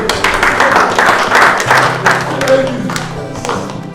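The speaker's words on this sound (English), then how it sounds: "Clap." A few people clap in an indoor scene, with sharp, uneven claps standing out clearly over a low murmur and music, stronger at the start and thinning out toward the end.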